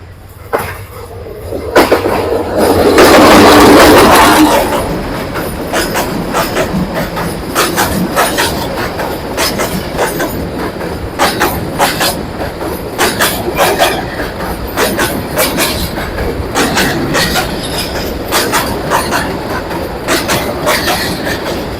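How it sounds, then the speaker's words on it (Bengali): A train runs along the rail line through Lawachara rain forest, a rumbling swell followed by steady rhythmic clickety-clack of wheels over rail joints, loud and continuous as the carriages pass close by. "আমাদের ভাগ্যটা খুব ভালো যে দশ পনেরো মিনিটের ভিতরে একটা ট্রেন ঢুকবে"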